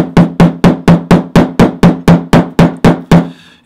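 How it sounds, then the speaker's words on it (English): A hammer strikes a glued leather seam for a bucket bag, about thirteen loud, evenly spaced close thuds in quick succession, ending in a brief rustle. "give it a good hammer"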